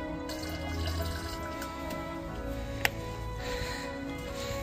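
Water runs and splashes steadily into a container for farm animals, a continuous close trickle and slosh with a faint ambient hum and one sharp knock partway through.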